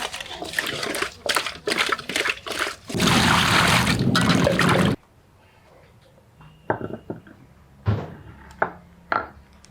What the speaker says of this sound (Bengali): মাছগুলো ধুয়ে নিলাম